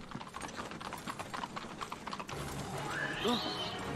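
Horse hooves clip-clop in the video game Kingdom Hearts Dream Drop Distance, a rapid faint patter of clattering steps under game music, and a brief high rising sweep follows near the end.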